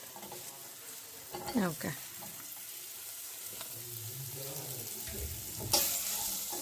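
Onions frying lightly in a pan for rasam, a soft sizzle with stirring clatter and a brief tap-water rush, while people chat quietly over it.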